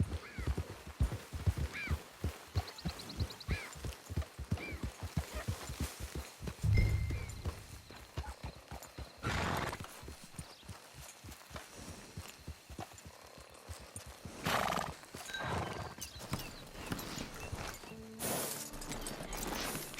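Horse hooves clip-clop at a walk in Red Dead Redemption 2, a steady close series of thuds joined by a brief whinny, with spoken dialogue in between.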